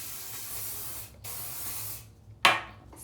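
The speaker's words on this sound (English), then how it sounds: "So the Living Proof Perfect Hair Day Bodybuilder Hairspray." Two long hissing sprays of Living Proof Perfect Hair Day Bodybuilder Hairspray, then a short sharp burst of spray, close to the mic with no talking.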